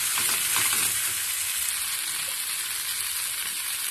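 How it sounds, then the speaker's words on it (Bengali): Spices, coriander powder and slit green chilies fry in a pan for a Bengali-style doi begun, with a loud, continuous sizzle. A few soft stirring scrapes sound in the opening second. "দিয়ে দেবো তিনটে চেরা কাঁচা লঙ্কা ঝালটা আপনাদের স্বাদ অনুযায়ী দেবেন একটু নেড়ে ছেড়ে মশলাটাকে"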